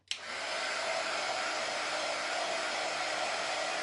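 A hair dryer switches on and blows steadily to dry paint, a constant close whooshing roar that starts abruptly and holds at an even level with no other sounds.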